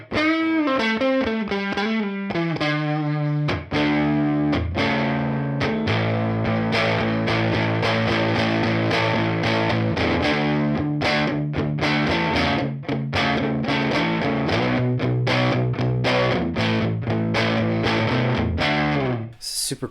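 Electric guitar through a UAD Woodrow '55 amp plugin with the gain raised, playing loud, continuous distorted rock chords and riffs, dense and sustained throughout with no talking.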